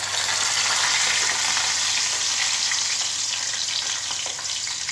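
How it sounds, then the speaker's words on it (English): Raisins (kismis) frying in a pan for sweet oats pongal give off a steady, loud, close sizzle that holds evenly throughout with no pauses and no voices. "Then fry kismis."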